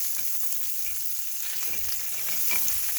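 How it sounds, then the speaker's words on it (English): Butter sizzling in beef searing juices in a pan for a steak sandwich, a steady dense crackling fry with small pops, close and fairly loud throughout, with no talking. "in the juice from searing the beef, I'm gonna add some butter in there"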